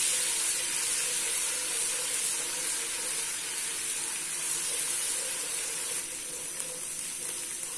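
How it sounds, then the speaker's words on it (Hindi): Ginger garlic paste frying in hot oil for a Punjabi kadhi pakora: a soft, continuous sizzle and hiss, steady and fairly quiet throughout. "अदरक लहसुन को हमने थोड़ा सा फ्राई कर लिया है।"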